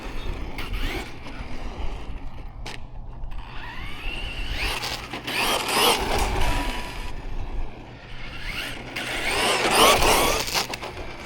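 A Hosim X07 RC car runs on a 4S battery, with whining motor surges and gear rattle that rise and fall across several bursts. The car is moderately close, with gritty crunching under the throttle.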